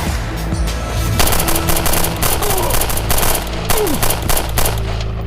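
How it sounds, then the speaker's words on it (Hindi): Sustained machine-gun fire in a TV drama shootout, dense rattling bursts layered over a loud rumbling action soundtrack, with brief whooshing effects and no clear talk. "ये आदमी मुझ पे फायरिंग किए जा रहा है"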